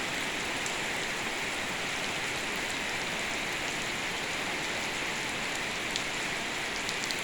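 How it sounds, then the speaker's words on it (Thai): Steady rain pours down in a continuous dense hiss across the whole stretch, loud and close, with a few brighter drop ticks near the end and no voices. "เพราะว่าฝนตก"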